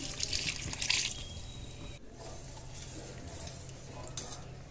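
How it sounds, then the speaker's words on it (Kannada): A brief splash and trickle as water is poured into a pan of potato sagu, followed by a quieter low simmer. "ಈಗ ಸ್ವಲ್ಪ ನೀರು ಸೇರಿಸ್ಕೊಳ್ಳೋಣ ಇದಕ್ಕೆ"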